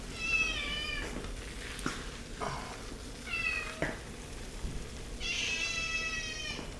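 A cat meows three times nearby, each call rising and falling, with short pauses and faint background clatter between them.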